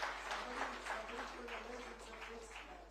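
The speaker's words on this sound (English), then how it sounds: "A huge round of applause for everyone." Applause at an awards ceremony hall, a steady wash of audience clapping with a voice speaking over it, fading slightly toward the end.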